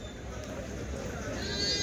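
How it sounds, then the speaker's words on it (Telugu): Sheep bleat among a steady murmur of people talking at a weekly sheep and goat market in Kadiri, a busy outdoor crowd with the animals close by. "అన్ని నేత గొర్రెలే ఉన్నాయండి"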